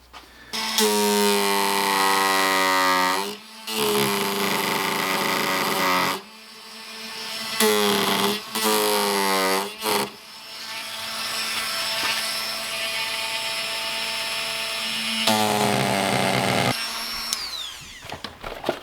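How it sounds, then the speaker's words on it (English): A hand-held power carving tool whines loudly into an ash wood bowl in several long bursts, the pitch sliding up and down as it spins up and bites, with short pauses between passes. "using one of these carving tools might be a lot faster and easier"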